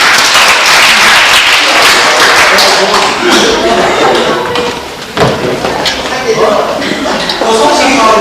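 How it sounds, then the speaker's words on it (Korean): A crowd applauds graduating seniors at a school farewell party, with dense, loud clapping that runs steadily throughout, briefly dipping near the end before picking back up. "이번에 졸업을 맞이신 맞이하신 선배님들께 다시 한번 박수 부탁드리겠습니다."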